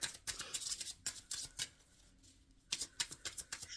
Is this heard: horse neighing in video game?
no